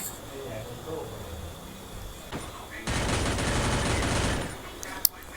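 Sustained burst of automatic gunfire in the Free Fire battle royale game, a dense rapid rattle lasting about two seconds after quieter background sounds, ending with a single sharp crack.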